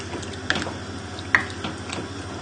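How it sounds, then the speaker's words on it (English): Apricots stirred into a lamb tagine make soft wet squishes and a few sloppy splats, spaced unevenly over a low background hum, close and moderately loud. "Then we can add in the apricots. Give them a nice stir."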